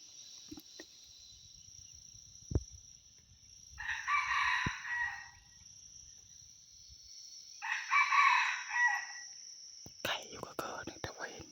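A rooster crows twice, fairly close and distinct, over a steady high insect drone, with a low voice murmuring quietly in between.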